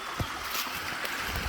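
Small waterfall on a stream crossing along Monroe Run Trail in Garrett County, a steady broadband rush of falling water with a few low thumps, fairly close and continuous.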